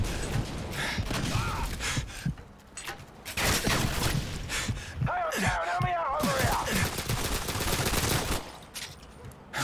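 Dense automatic gunfire in Call of Duty Modern Warfare 2 co-op Spec Ops, continuous bursts with loud chaotic game noise and brief vocal sounds mixed in.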